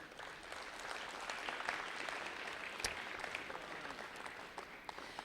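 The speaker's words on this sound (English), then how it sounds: "Have a nice round of applause for Gordie." Audience at a hockey team event applauding the head coach of the Charlottetown Islanders, a faint, distant, even patter of many hands with one sharp knock partway through.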